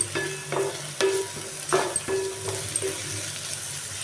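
A spoon scrapes and stirs mutton and drumstick curry in a frying pan, several clinks and scrapes over a soft sizzle.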